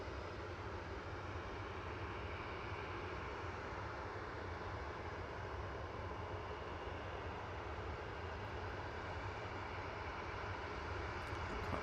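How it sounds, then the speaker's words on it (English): Steady, unbroken roar from a TUI Boeing 787 Dreamliner on the ground at Manchester Airport, apparently under tow, a distant broadband engine rumble holding constant throughout with no speech. "There's a TUI Dreamliner, I think, being towed in the background."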